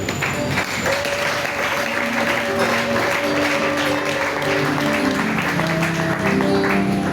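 Church congregation applauding during a worship service, a steady spread of clapping layered under sustained organ or keyboard tones and voices.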